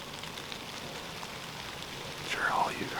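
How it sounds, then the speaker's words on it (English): Sleet mixing rain and snow hisses steadily onto an outdoor microphone crusted with frozen snow during late-season bow hunting in New York. The patter stays soft and even, with a slight rise near the end. "So it's sleeting right now,"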